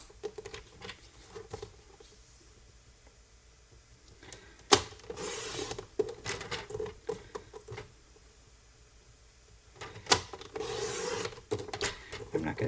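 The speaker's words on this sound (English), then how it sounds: "we start cutting that into the 1 inch strips" Scissors or a trimmer cutting paper into 1 inch strips for a pop-up card, quiet and close, with scattered snips and a few louder rustling, sliding bursts between calmer stretches.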